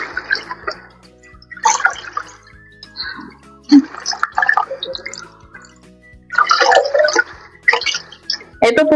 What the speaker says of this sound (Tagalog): Unahin ko na po itong hugasan or banlawan. Ating saluyot.